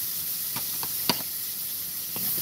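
Vegetables for japchae stir-fry in a pan, a soft steady sizzle with a few light scraping and tapping knocks of a utensil against the pan, fairly quiet and without talk.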